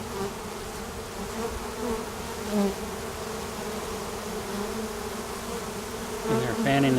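Honeybees swarm out of an old dying tree and fan at the entrance of a hive box, a dense, steady buzzing drone close by with individual bees zipping past, no voices.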